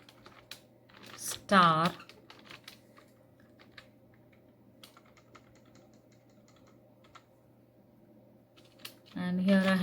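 Short bursts of computer keyboard keystrokes, faint and scattered clicks while a MySQL query is entered, broken by a few louder spoken words near the start and end.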